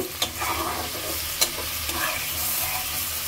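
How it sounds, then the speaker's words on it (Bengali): Shrimp stir-fried in a pan, a steady loud sizzle with scraping stir strokes and a couple of sharp utensil knocks, no voices. "আগে হচ্ছে চিংড়ি মাছটাকে ভালো করে কষায় নিচ্ছি।"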